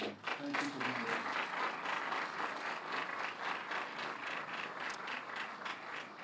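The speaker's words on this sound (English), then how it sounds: "Can we give a round of applause to Mr." Audience applause at a Congressional Iftar dinner on Capitol Hill for Khizr Khan, steady sustained clapping from a room of guests, moderately distant and even throughout.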